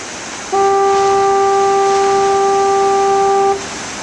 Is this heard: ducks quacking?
no